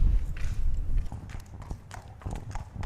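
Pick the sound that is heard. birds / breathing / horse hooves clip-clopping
horse hooves clip-clopping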